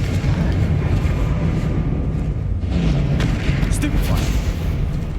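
A Confringo fire spell explodes in the Hogwarts Legacy video game, a dense rumbling boom that blends into continuous low game noise and music for the whole stretch.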